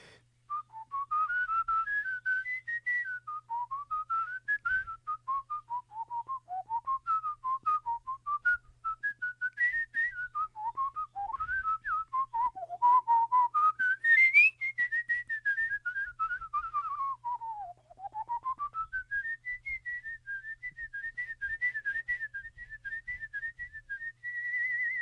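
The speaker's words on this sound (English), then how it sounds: "I'll just whistle for you real quick." Solo human whistling of a melodic tune, clear and close, with fluid rising and falling phrases and warbling trills for about 25 seconds, no talking over it.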